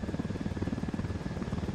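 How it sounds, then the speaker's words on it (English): A helicopter flies in the Ghost Recon Wildlands video game, its steady rotor chop pulsing continuously and loudly throughout, close to the listener with no talk over it. "Let's go into this helicopter here."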